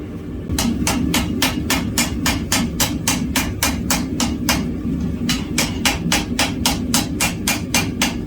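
A blacksmith hammering a hot workpiece during forge welding, rapid regular ringing blows close by, about three per second, with a short pause midway before the strikes resume at the same pace.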